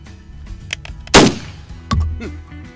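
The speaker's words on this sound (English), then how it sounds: "Now I'm going to shoot that 1 7/8 ounce load and see how far I rock back on this one." A shotgun firing a 1 7/8 ounce, 3 inch Magnum load, one sharp loud blast followed by a second, lesser impact-like report and clattering handling sounds.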